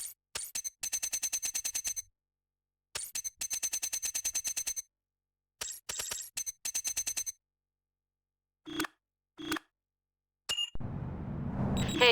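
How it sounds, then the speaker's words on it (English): A car's SMS message alert in Need for Speed Underground 2 sounds as rapid bursts of electronic ringing beeps in repeated phrases with silent gaps, then a few isolated beeps before a rising noise wash. "what you're hearing is the car's short message system"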